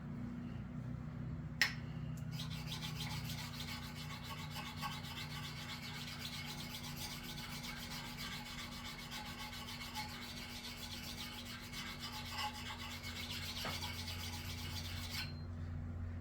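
A file rasps steadily across the steel of a Council Tool Jersey axe head being reprofiled, with continuous close rubbing strokes, a couple of sharp taps and a low background hum.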